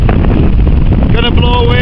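Strong, warm wind blasting across a Lake District fell ridge near Great Borne above Buttermere, a loud, continuous roar buffeting the microphone, with a voice briefly audible near the end.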